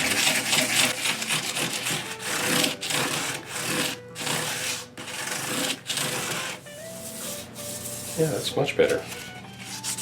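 A guitar body is sanded by hand with fine cloth-backed sandpaper, making rapid back-and-forth scratchy rubbing strokes. A person speaks briefly near the end.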